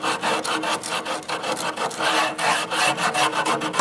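A sanding block works at the edge of a wooden spindle in quick back-and-forth strokes, a close, dry, rhythmic rasp repeating steadily throughout.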